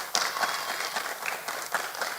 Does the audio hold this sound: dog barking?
no